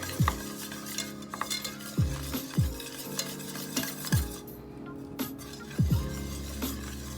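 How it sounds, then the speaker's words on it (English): Garbanzo bean flour mixture being stirred vigorously in a pot, a steady run of scraping, clinking utensil strokes against the pan with a light sizzle beneath, close and moderately loud with no voices. "So you're going to continuously, vigorously stir in your garbanzo beans flour."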